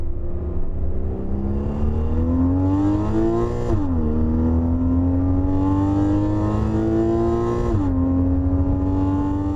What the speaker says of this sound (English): There's something very special about Porsche's flat six engine and the variety of sounds that it makes based on revs and engine load.